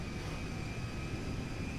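An MD-11 airliner taxis in the game GTA 5, giving a steady, dense jet-engine roar with a constant high whine on top, loud and unbroken throughout with no talk.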